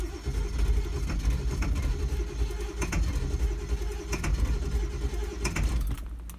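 A truck's 7.3 engine, a vehicle with a few known issues, runs at a steady rumbling idle nearby, with faint clicks and ticks over the continuous low drone.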